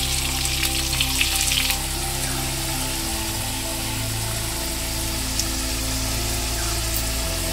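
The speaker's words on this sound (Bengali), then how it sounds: "আলুগুলি সামান্য পরিমাণ হলুদ আর লবণ দিয়ে ভেজে নিব।" Potatoes fry in oil with turmeric and salt for a chicken curry, a loud steady crackling sizzle over a constant low hum that shifts pitch partway through, with no talking.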